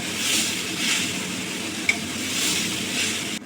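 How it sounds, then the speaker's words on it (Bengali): Lentils frying in a pan with turmeric and chili powder, a continuous close sizzle with soft stirring swells and one sharp utensil tap midway, then a sudden cutoff. "ডালটা ভাজা হয়ে গেছে, কালারটা চেঞ্জ হয়ে গেছে ডালের।"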